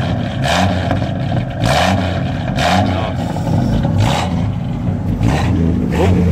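A 1976 Chevrolet C10 pickup with a six-cylinder engine revs loudly and close, in repeated rising blips of throttle over a steady idle rumble, with no talk.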